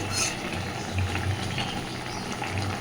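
A vegetable curry thickening in a pan bubbles and simmers steadily at close range, a soft continuous gurgle and patter that runs without pause.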